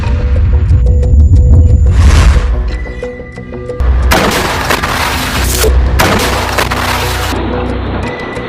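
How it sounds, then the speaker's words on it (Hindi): Heavy mortar shells fired in war footage near Rafah, heard as loud deep booms and blasts with broadband crackle, several bursts across the stretch over a constant low rumble. "अल कुद्स ब्रिगेड ने एक साथ मिलकर इजरायली सैनिकों के जमावड़े पर हैवी मोटर गोले दागे हैं"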